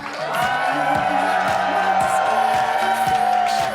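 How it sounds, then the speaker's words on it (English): A crowd applauds and cheers for the host at a live comedy show. The clapping and whoops are loud and sustained over a steady rhythmic music bed. "A big round of applause for your Task Mistress, the incomparable Tony Soto."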